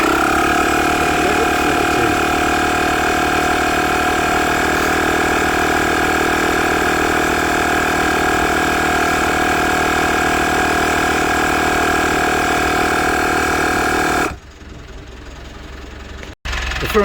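A Halfords rapid digital tyre inflator pump runs on a tyre with a loud, steady motor drone and buzzing hum that holds unchanged for about fourteen seconds, then cuts off abruptly, leaving quiet.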